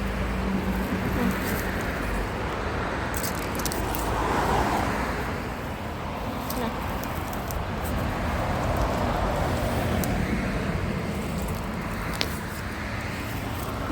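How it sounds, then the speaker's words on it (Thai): Steady road traffic rumbles nearby as cars pass continuously, a broad wash of engine and tire noise with no clear pauses. "ได้ยินแต่เสียงรถ"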